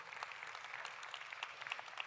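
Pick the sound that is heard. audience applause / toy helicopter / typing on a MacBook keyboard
audience applause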